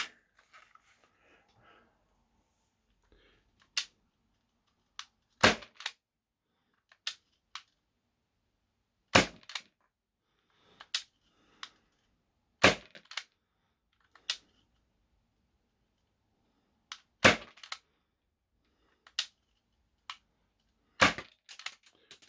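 Tokyo Marui Mk23 airsoft pistol being fired, a string of about a dozen sharp, snappy cracks at irregular intervals, close and clear against near silence.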